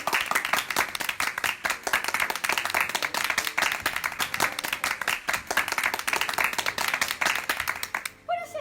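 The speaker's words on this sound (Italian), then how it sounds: "un grande applauso signori" A small audience at a staged show claps for an arriving guest in a lively, rhythmic patter of many hands, fairly close and steady, ending abruptly with a voice cutting in at the close.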